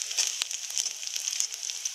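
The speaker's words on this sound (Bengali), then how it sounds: "পেঁয়াজটা লাল হয়ে এলে আমি পেঁয়াজ কলিটা ঢেলে দিব।" Spring onion greens frying in a pan with onions, giving a steady close sizzle with a few brief crackling pops, no voices.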